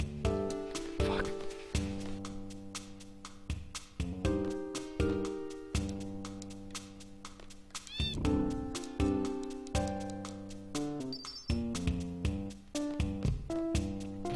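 A cat meowing amid busy video game music, with overlapping musical tones throughout and no clear pauses.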